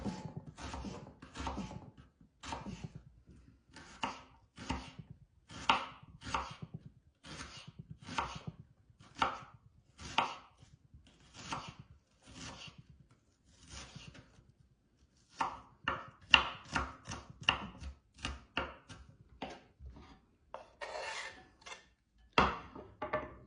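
A knife finely chops red onion on a cutting board in a run of sharp, quick taps, grouped in bursts with short pauses between them, fairly close and clear, with no voices.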